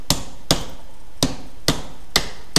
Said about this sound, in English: now I'm gonna take an old hammer, not a forging hammer, and just start smacking handle scales.